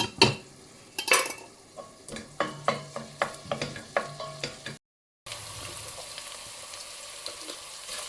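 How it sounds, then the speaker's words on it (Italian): Soffritto frying in a pan as garlic and spring onion go in, a run of sharp stirring and utensil clacks over steady sizzle, then a brief gap and a continuous even sizzle alone for the last few seconds. "Soffritto a buon punto, metto giù anche l'aglio e il cipollotto"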